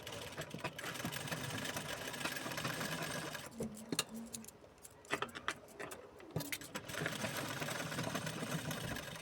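A sewing machine runs in bursts while stitching a blouse, its rapid mechanical whir pausing midway for a few clicks and rattles before starting up again.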